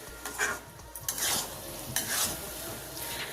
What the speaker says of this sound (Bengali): নাড়াচাড়া করে অনেকটা জল শুকিয়ে গেছে। তো এইভাবে আমি আরও কিছুক্ষণ নেড়ে নেব।